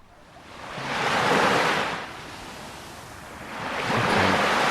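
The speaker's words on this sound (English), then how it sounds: "So that's the sound of the ocean." Ocean waves wash in and recede in two broad, rushing swells, a steady hiss of surf with no voices.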